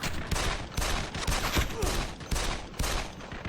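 Rapid pistol gunfire in the video game E.T. Armies, a dense run of loud close shots with short gaps and no talk over it.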